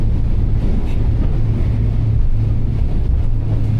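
Technohull XPD 46 powerboat running at about 39 knots, a steady loud engine drone mixed with rushing water and wind buffeting, continuous and close with no talk.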